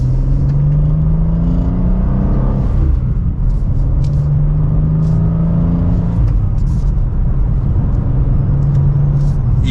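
A 2023 BMW M2 with a manual gearbox pulls hard from second gear, its engine droning steadily up in pitch, dipping at a shift and climbing again, loud and close from inside the cabin with no talk.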